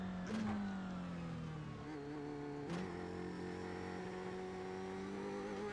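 An F3 race car in the iRacing sim, entering pit road at the Nürburgring, gives a steady, quiet engine drone whose pitch climbs and shifts as it gears up and accelerates, with no talk.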